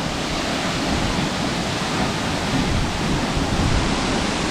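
Waterfall at Glacier National Park, a steady broadband rush of falling water, loud and continuous, close by with no break.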